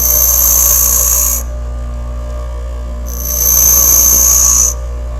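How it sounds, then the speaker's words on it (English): A bench grinder whines steadily while a drill bit is pressed against the wheel and rolled away, with two bursts of louder high-pitched grinding over the motor's constant hum. "the technique is to touch your grinder"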